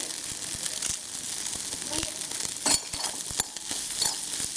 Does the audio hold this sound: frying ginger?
yes